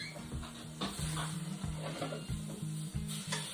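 A roast sears in a hot pan and is turned over with a table fork, with a steady low sizzle broken by short scraping and clicking contacts, close and moderately quiet.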